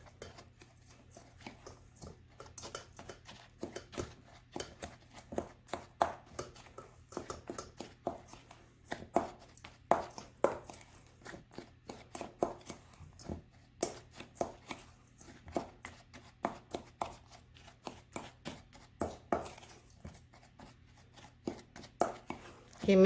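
Sweet potato pudding ingredients are stirred together in a bowl: a long, quiet series of irregular knocks and scrapes of the utensil against the bowl, rising and falling in pace.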